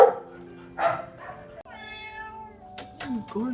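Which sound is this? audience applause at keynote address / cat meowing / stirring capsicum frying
cat meowing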